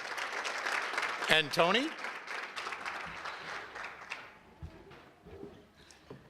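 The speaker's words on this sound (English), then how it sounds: "So give them both a nice round of applause." Audience applause fills a room at the Elmhurst Chamber's 94th annual awards gala, a steady wash of clapping with a voice speaking briefly over it before it thins out toward the end.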